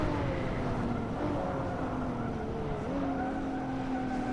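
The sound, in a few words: Ford Mustang and BMW Z4 racing cars in a racing video game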